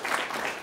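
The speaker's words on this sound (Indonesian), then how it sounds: "Tepuk tangan Bu Siti." Applause from an audience at a campus event at STISIPOL Candradimuka in Palembang, a brief burst of steady, close clapping with no speech over it.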